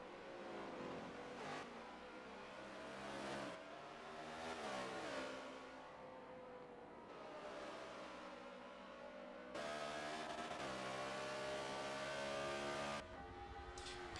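Race cars at the Lime Rock racetrack, engines rising and falling as they rev and pass in a few surging waves, a louder sustained roar near the end, with no talk over it.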